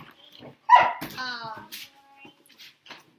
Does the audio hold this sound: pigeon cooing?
no